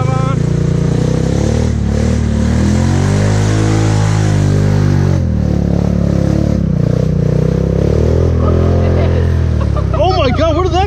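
Polaris UTV in four-wheel drive churning through deep, thick mud, its engine loud and close with steady droning and shifting revs throughout, while a person talks over it.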